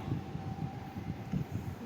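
A train arriving at Guptipara station on the Howrah to Nabadwip line, with a steady low rumble of rolling wagons and rhythmic wheel thumps, fairly close and continuous throughout.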